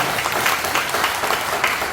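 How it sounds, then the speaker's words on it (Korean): Applause from a church congregation at a prayer revival meeting, a steady wash of many hands clapping together for about two seconds, fairly loud and even, with no clear talk over it. "그분들에게 박수 한번 주세요"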